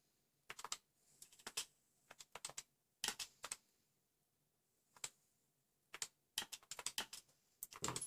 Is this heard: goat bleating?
no